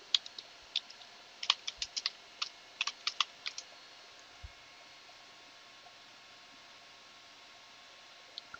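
Typing an apt-get command on a computer keyboard on Linux Mint 18.3: scattered, sharp key clicks in quick clusters over about four seconds, then near silence with a couple of faint later taps, against a quiet noisy background.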